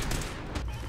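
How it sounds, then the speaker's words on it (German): A rapid burst of gunfire aimed at a Fusion Core during a Fallout 4 firefight, loud and dense for under a second. "Schieß mal auf den Fusion Core."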